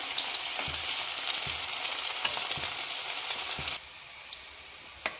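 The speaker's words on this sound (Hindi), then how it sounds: "इसको डार्क ब्राउन होने तक इसको फ्राई करेंगे हम।" Sliced onions deep-frying in oil for a vegetable biryani, a dense continuous crackling sizzle close up with faint spoon taps, dropping a little in level toward the end.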